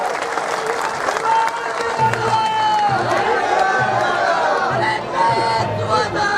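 Audience applause at an outdoor political rally in Burhanpur, a dense, sustained clapping from a large crowd mixed with chatter and scattered cheers, while a voice over a loudspeaker carries on underneath.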